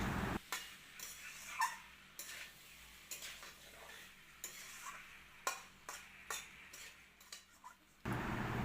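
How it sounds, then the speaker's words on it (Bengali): A spoon scrapes and clatters repeatedly as fried potato and jackfruit are stirred with spices in a pan, a close, irregular rhythm of scrapes over a low sizzle with no talking. "আলু আর এঁচড় ভালো করে মশলার সাথে মাখিয়ে কিছুক্ষণ কষিয়ে নেব"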